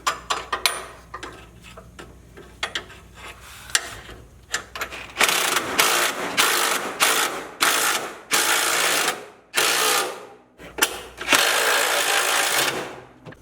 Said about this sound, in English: This is a 3/4 inch wrench and a 3/4 inch socket that I'm using here.